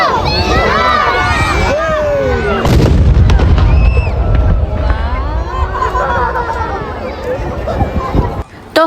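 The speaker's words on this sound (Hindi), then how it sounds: "कैनन फायर होते ही इफ्तार खुलते हैं यहाँ पे।" A loud iftar cannon booms at a large mosque in Qatar during Eid, a single heavy blast rising over crowd chatter and children's voices, with people talking throughout.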